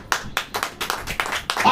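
A church congregation claps hands during a sermon, giving about six fairly loud, close, rhythmic bursts of clapping with voices mixed in.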